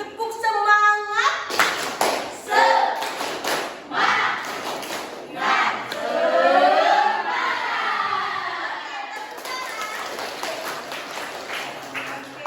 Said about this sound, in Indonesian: Coba ada tepuknya, semangat ya. Tepuk semangat.